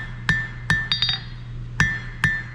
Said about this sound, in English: Start forging this square into an octagon